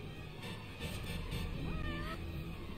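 A cat meows in the video game Gravity Rush, a drawn-out, rising and falling call over steady game background noise, fairly close and clear.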